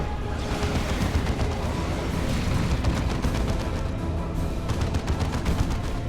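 Heavy bolter turret fire and battle noise from Dawn of War II: Retribution, a dense, continuous rattle of rapid shots and booms at steady loudness throughout.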